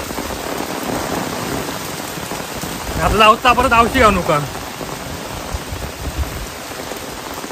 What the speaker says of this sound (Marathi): पावसान जोरदार सकाळपासून चालू आहे